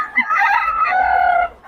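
Chickens at a market in Bocaue, Philippines, with one bird crowing loudly up close and clucking around it, heard alone.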